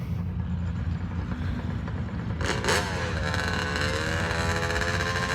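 A classic Mustang muscle car idles loudly with a deep, lumpy rumble at a drag strip, then revs up briefly and settles back into a rough idle, close by.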